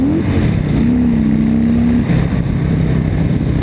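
A 2018 Harley-Davidson Fat Boy V-twin engine revving up to a strong sustained drone, then easing back to a lower rumble, loud and close with no talking.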